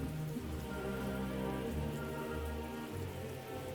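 Steady rainfall during the rainy season in a World War I Western Front strategy game, a dense, continuous hiss of drops on surfaces with low rumbling underneath, constant and close throughout with no voices.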